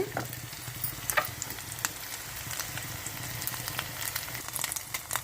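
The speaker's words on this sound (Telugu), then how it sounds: "ఇంకొక ఐదు నిమిషాలు వేగాలండి" Gongura (sorrel leaves) curry with dried shrimp sizzles and crackles steadily in a pan, with occasional stirring scrapes over a soft, continuous frying hiss.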